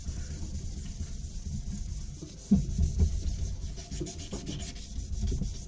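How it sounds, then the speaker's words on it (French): By-hand sanding of a motorcycle exhaust pipe, the pot of a CRZ 250 pit bike, gives a steady, close abrasive rubbing that continues throughout with slight swells in strength and no talking. "Donc on ponce quoi. On ponce. Donc je continue de poncer ça."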